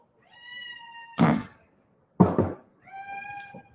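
A house cat meows close by, two drawn-out tonal cries separated by two sharp knocks or thumps, with quiet room noise in between.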